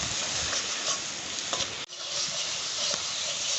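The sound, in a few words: stir-frying tilapia masala with salt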